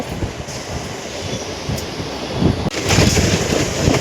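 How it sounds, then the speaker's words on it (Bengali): Sealdah–Krishnanagar City local train pulling into platform two at Ranaghat Junction, a continuous rumbling roar of wheels and carriages with wind buffeting, growing louder near the end. "রানাঘাট জংশনের দু নম্বর প্ল্যাটফর্মে প্রবেশ করছে আমাদের শিয়ালদা কৃষ্ণনগর সিটি লোকাল"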